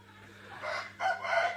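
An Indian game rooster crows once, a fairly close, drawn-out call in two bursts over a low steady background hum.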